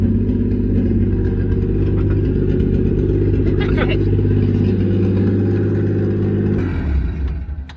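A Nissan S12 fitted with a swapped-in 1JZ engine idles at a steady, deep, even rumble close by, holding an unbroken low drone for several seconds with a voice talking over it.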